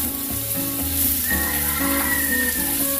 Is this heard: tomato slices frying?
yes